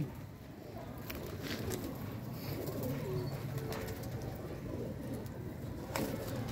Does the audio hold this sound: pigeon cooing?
yes